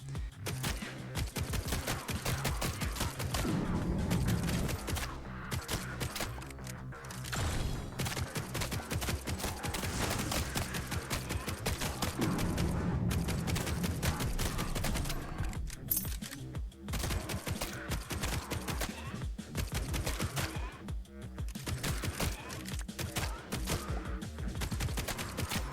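Frantic gunfire and explosions in the demon-slaying action game Grind Survivors, a relentless dense barrage of rapid shots and blasts sustained loud for nearly half a minute, with no talk.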